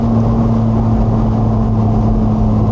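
A McLaren 675LT Spider's engine drones loudly and steadily under acceleration, a dense, even roar with a strong low hum and no pauses or voices.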